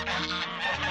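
A goose honks once, harsh and nasal, close by, during a squabble among farm geese.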